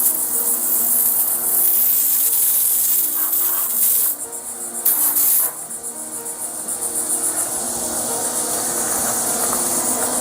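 Water sprays steadily from a badly kinked garden hose, a loud continuous hiss that briefly drops and surges midway before settling back into a constant spray.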